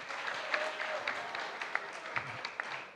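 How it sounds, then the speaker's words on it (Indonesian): A seated audience at an energy discussion panel gives Mas Rizky a short, fairly quiet round of applause, a brief patter of claps heard from some distance. "Tepuk tangan buat Mas Rizky"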